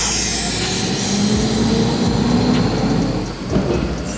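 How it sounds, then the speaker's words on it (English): A garbage truck passes on a nearby street in a continuous loud, low rumble with grinding, rattling mechanical noise that swells and then eases slightly near the end, with no talking. "Garbage truck driving by right now."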